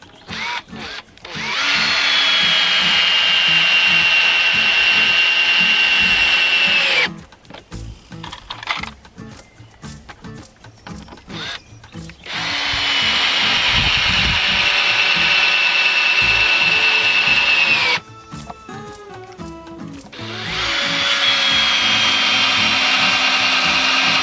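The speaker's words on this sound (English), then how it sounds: "to screw all these planks to the legs" Cordless power drill driving screws through wooden planks into table legs outdoors, in three long loud whining bursts of several seconds each, separated by clattering handling and knocking noises, close up.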